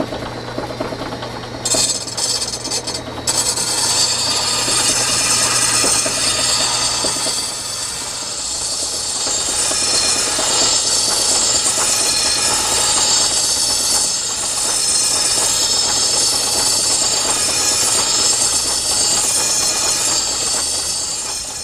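A blade is sharpened on a grinder, giving a loud, sustained high-pitched grinding whine over a steady motor drone. It starts in short bursts and then runs continuously at close range.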